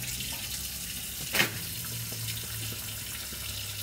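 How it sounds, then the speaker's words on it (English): A kitchen faucet running water into a sink in a small alcove, with a brief splashing burst as the tap opens, then a faint steady trickle and low hum. "So I'm just going to start the water."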